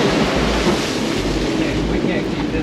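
Ocean waves wash and roar around a sailboat in rough seas, a constant loud broadband rush mixed with heavy wind buffeting the microphone.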